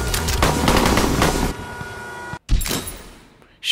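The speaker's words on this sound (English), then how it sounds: "Shooting from moving vehicles is actually really hard, especially when you're supposed to be driving!" Rapid gunfire in the Henry Stickmin video game, fired from a moving vehicle during a car chase, loud and dense for about a second and a half before fading into engine rumble, then a brief cut and another burst.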